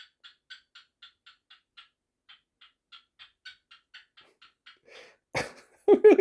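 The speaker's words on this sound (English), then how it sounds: "Bird thinks I'm talking to him." A pet bird gives a long series of regular, evenly spaced calls at a moderate distance, then bursts into louder harsh squawks at the end.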